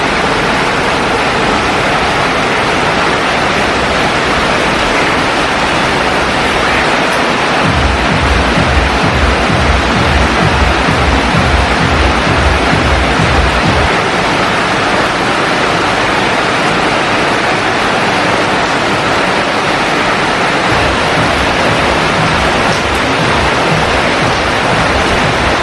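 Heavy monsoon-season rain in Varkala, Kerala, India, a dense continuous hiss of downpour with deeper rumbling water underneath, loud and unbroken throughout.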